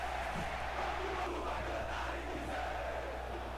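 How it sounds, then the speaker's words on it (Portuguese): Steady, dense crowd roar fills a FIFA video game stadium as Brazilian club Sport plays the second half, a continuous wash of fan noise with no clear breaks. "Torcida tá apoiando o time"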